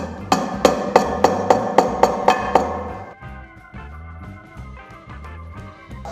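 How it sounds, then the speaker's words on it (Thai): Hammer blows drive a size-seven plastic wall anchor into a drilled hole in a cement floor during wood-decking installation: about eight sharp, evenly spaced strikes, close and loud, then softer, lower knocks continue. "เราใช้ค้อนตอกลงไปเลย"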